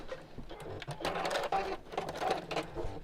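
A home sewing machine stitches fabric in a quick, steady mechanical whir with rhythmic needle clatter, close and fairly quiet, running alone for a few seconds.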